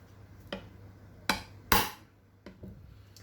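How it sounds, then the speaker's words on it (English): Steel chisel tapped along a marked line while cutting a wooden dado for a tissue box, giving five sharp, separate knocks spaced irregularly, the fourth loudest, with quiet pauses between. "Now you chisel on the line."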